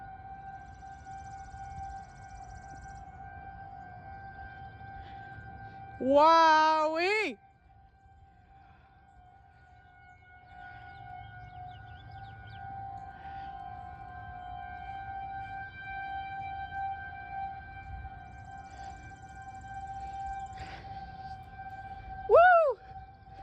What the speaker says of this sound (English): The sirens are really satisfying.